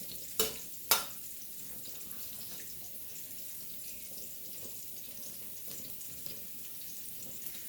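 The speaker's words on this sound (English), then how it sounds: "the garlic, let it toast a little bit." Garlic toasting in a pan gives a steady, soft sizzle throughout, with two sharp clacks near the start, close and fairly quiet.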